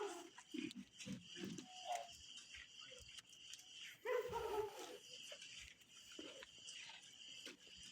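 A few faint, distant dog barks and yips over a busy background hum, with one louder yelping burst near the middle.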